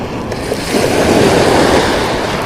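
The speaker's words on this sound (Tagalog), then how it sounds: "palaki na ng palaki yung mga alon" Ocean waves surge and wash around a boat out at sea during a fishing trip, a steady broad roar that swells louder midway, with wind buffeting the microphone throughout.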